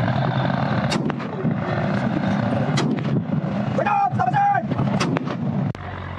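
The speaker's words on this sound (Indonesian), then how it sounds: "petugas pun terpaksa melepaskan tembakan peringatan berulang kali." Warning gunshots fired repeatedly by patrol officers while pursuing a Vietnamese fishing boat off Natuna, with loud, close, booming reports over constant engine and wind roar.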